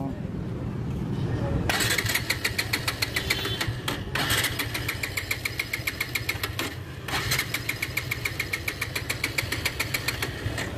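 A Bajaj Pulsar 180 BS4 motorcycle, its fuel tank running on reserve, is started close by: a brief cranking whir, then the engine catches into a loud, rapid, evenly ticking idle that continues steadily.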